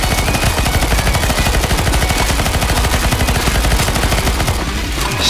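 Dense, continuous automatic gunfire from CS:GO Zombies mode, rapid shots rattling loudly without pause for the whole stretch, with no talking over it.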